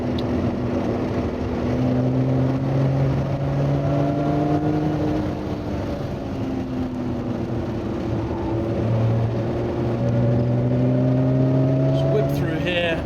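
A Lotus Evora 400 sports car in race mode drives a track, its engine note rising and falling steadily with gear changes through corners, while someone talks over it throughout.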